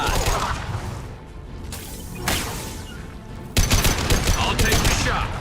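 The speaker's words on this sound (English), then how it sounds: "Firing a high-impact shot!" Gunfire in Mass Effect 2 combat, a loud sudden high-impact shot followed by a dense burst of rapid weapon fire and crashing impacts, close and forceful amid battle noise.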